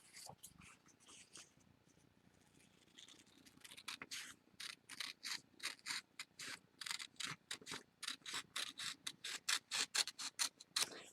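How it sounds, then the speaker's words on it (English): Scissors cut through a sheet of construction paper along a drawn line, starting with soft scattered snips, then settling into a steady run of crisp, evenly spaced snips, close and fairly quiet. "Now I'm going to cut the paper right along that line."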